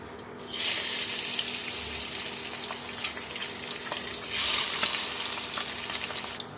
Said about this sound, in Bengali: বাকি মাছগুলো একই তেলে ভেজে নেবো